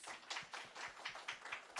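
Audience applause for a panel's guests at the close of a city-to-city conference session, a short burst of quick, fairly faint claps in a meeting room.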